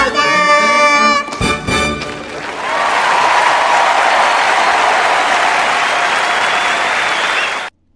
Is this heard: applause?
yes